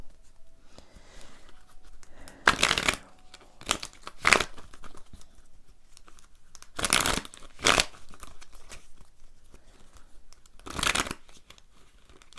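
Tarot cards are shuffled in several short riffling bursts spread out over a quiet stretch. The bursts are close and crisp, with faint handling sounds between them.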